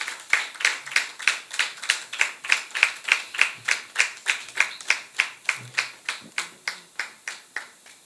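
Rhythmic, evenly spaced clapping welcoming a doctor onto a magazine program set, about three claps per second in a steady beat, crisp and fairly close with little else around it.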